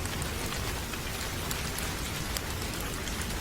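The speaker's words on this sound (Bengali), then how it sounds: "আমি জানালার পাশে দাঁড়িয়ে বাহিরের বৃষ্টি দেখছিলাম।" Steady rain pours outside a window, a dense, even hiss of drops at constant loudness with no voices or thunder.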